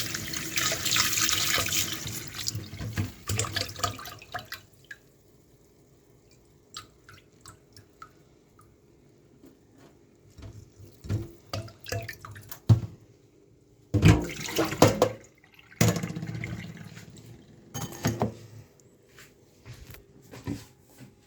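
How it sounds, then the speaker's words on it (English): Tap water runs over lentils being washed in a kitchen, with bursts of splashing and swishing between quieter stretches of drips and handling, close up and with no speech. "Wash and clean lentils."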